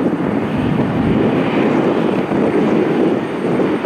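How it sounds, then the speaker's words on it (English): A Continental Airlines heritage livery jet takes off from runway 24 left at Cleveland Hopkins Airport, its engines making a loud, steady, broadband roar that holds close and strong throughout. "Special livery, our Continental Airlines Heritage. Take it off at runway 24 left."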